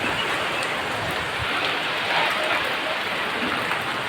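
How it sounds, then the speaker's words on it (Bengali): Rain falls steadily in a dense, even hiss with no breaks and no voices, a close, continuous wash of drops striking surfaces. "এখন আমি সুন্দর করে বৃষ্টিতে ভিজতে নেমে যাব"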